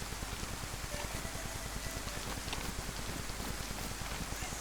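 Heavy rain falls in a video game, a dense, even patter that runs steadily throughout, loud and close, with no talk over it.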